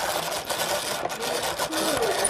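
A power drill bores a hole in wood, a steady close whirring grind with brief dips in pitch as the bit bites.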